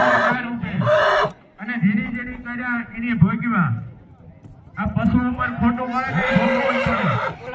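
At a Hathla horse race, horses neigh and whinny loudly and close by, with loud commentary and crowd voices talking over and between the calls.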